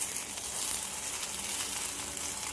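Food frying in just a little oil in a home kitchen, giving a soft, steady sizzle and crackle that stays faint and even throughout with no talking.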